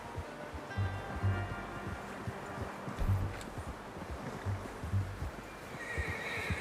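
A horse in Red Dead Redemption 2 whinnies several times over a steady windy, surf-like background, with faint hoof clops mixed in.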